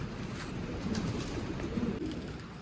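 Soft, low pigeon coos repeat a few times close by over a steady background rustle and ambient noise.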